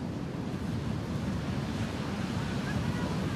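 Surf rolls and breaks continuously at Mar Chiquita beach during a stranding of orcas, a loud, steady wash of ocean noise mixed with wind buffeting the microphone, with no clear voices above it.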